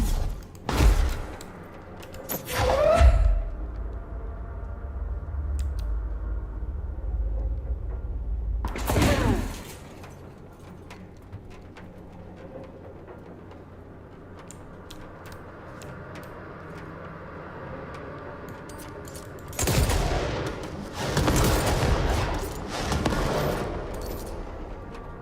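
Sniper gunfire in the action game Control: several sharp, heavy shots at widely spaced intervals, including a clustered burst near the end, over a low rumbling ambience.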